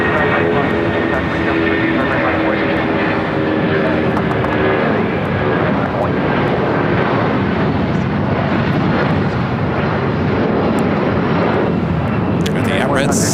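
An airliner takes off from a runway at LAX, a loud continuous roar of jet engines that holds steady throughout, with talk partly beneath it.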